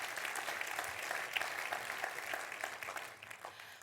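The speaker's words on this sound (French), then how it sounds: "Applaudissements, s'il vous plaît." An audience at a public event in the Vendée applauds continuously, a dense wash of many hands clapping steadily at a moderate distance, no voices on top.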